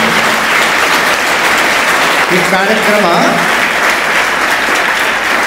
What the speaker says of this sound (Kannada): ಎಲ್ಲರೂ ನೋಡೋಣ, ಜೋರು ಚಪ್ಪಾಳೆ ಹೊಡೀರಿ.